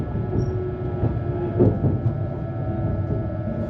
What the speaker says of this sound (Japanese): 列車は房総の東部へと進む。